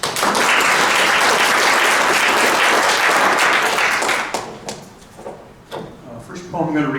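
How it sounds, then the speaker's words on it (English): An audience at a poetry reading in a public library applauds loudly and steadily for several seconds before the clapping thins out and fades. "How about one more round of applause for our two featured poets today?"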